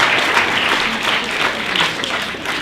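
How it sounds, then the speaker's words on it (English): A studio audience claps steadily through a music artist's interview, a dense, even wash of many hands without pause. "Okay, clap it up."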